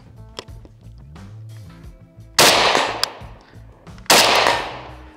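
Two loud, sharp shots from a Type 81 rifle fitted with a longer barrel and bipod, fired at about 100 yards, each followed by a decaying echo outdoors, with quieter handling noises before them.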